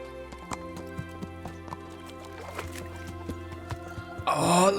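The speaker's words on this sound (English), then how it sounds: "And they made puddle sounds when he went through it with the horse." In the Kingdom Come Deliverance video game, a horse walks through puddles with a run of distinct hoof clops over background music, ending in a louder splashing burst.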